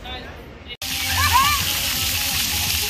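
Water sloshes and splashes continuously at a family day at a Six Flags amusement park, fairly loud and close with a child playing in it, while voices murmur faintly in the background.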